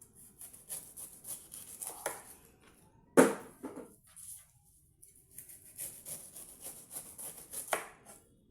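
A dull knife works around a pineapple, giving close scraping and rubbing strokes in uneven bursts, with one sharper cut partway through and short pauses between passes.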